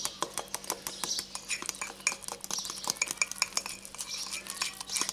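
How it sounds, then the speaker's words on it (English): Chocolate mug cake batter is mixed with a fork in a coffee cup, giving quick, close clinks and scrapes of metal on ceramic in an uneven rhythm throughout. "I'll just give her a mix with the fork."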